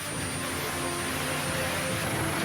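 Steady, loud engine roar of a military air force helicopter carrying aid supplies to a disaster area in Sibolga, North Sumatra, filling the whole stretch without pause and with no voices.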